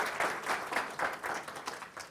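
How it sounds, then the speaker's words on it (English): An audience at a genealogy day lecture applauds a speaker, a soft, distant patter of clapping that swells in light rhythmic waves and fades over a couple of seconds, with no voices. "please give a warm round of applause to Ray Johnson"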